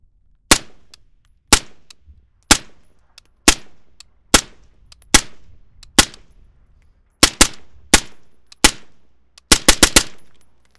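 Suppressed 5.56 rifle shots through a Saker 556K suppressor on an 11.5-inch barrel, sharp cracks fired singly at roughly one-second intervals, closing with a quick string of rapid shots, near and loud with no talk.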